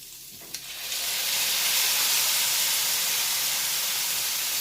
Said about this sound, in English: you crust a bit and then add the braising liquid